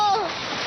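Water splashes in a Doraemon cartoon as river water is brought in with a cleaning bag. The burst is brief and loud, then fades into a softer wash, with a voice over the splash.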